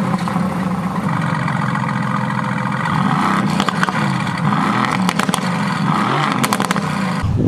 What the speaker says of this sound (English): That was the AMG just starting.